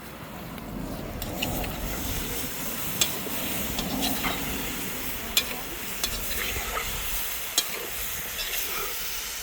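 Food simmers and fries in a pot over a wood fire at a Jamaican yard cookout, a steady close crackling sizzle with a few sharp clinks and pops scattered through, no talking.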